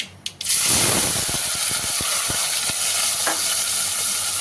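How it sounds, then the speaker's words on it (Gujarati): After a few clicks, hot oil bursts into a loud, steady sizzle as mustard seeds, cumin and asafoetida hit the pan, with small pops and scrapes scattered through it. "હવે આપણે વઘાર કરી નાખીએ રાઈ જીરું અને હિંગ"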